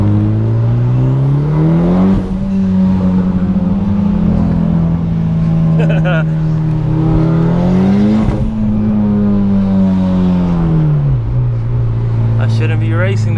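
Evo accelerating hard on a highway while racing a Lexus IS300, the engine droning loudly and climbing in pitch through gear changes, close and continuous, with a person talking over it.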